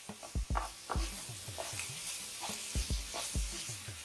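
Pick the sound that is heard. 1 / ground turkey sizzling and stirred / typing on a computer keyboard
ground turkey sizzling and stirred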